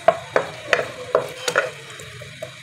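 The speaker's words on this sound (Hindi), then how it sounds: "मीडियम टू लो फ्लेम पे इसे हमने सोटे करना है प्याज को।" Onion sautéing in a pan over medium-low flame for a pizza sauce, a soft sizzle under repeated clacking spoon or spatula stirs, about six sharp knocks spaced irregularly, close and fairly quiet, with no talk.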